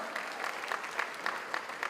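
Brief, steady applause from a showcase night audience, many hands clapping at a moderate level with a few sharper, closer claps punctuating the even patter.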